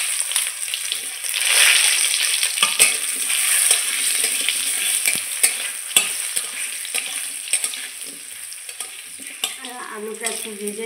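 Cubed potatoes fry and sizzle in hot fish-frying oil with cumin seeds in a pan, a spatula steadily stirring and scraping with scattered clinks, close and continuous without any voices.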